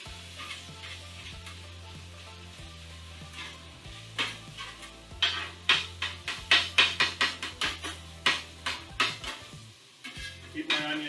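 Impossible meat sizzling and frying in a little oil in a pan, with a steady sizzle under a low hum and a run of sharp, repeated clinks and scrapes of a utensil stirring the meat midway through.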